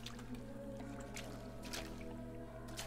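Steady watery trickling and lapping in a flooded indoor area in BioShock Infinite, a continuous low wash with faint splashy accents, constant and moderately quiet with a steady background hum.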